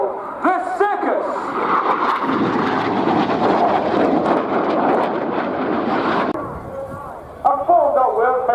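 Red Arrows jets roar overhead in a tight formation turn, a loud sustained rushing jet noise that cuts off sharply, with talk at the start and end.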